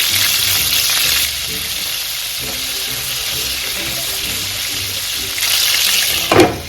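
Chicken garlic bites frying in a pan, a loud, steady sizzle with crackling oil splatter close by, surging louder near the end as the pieces are stirred.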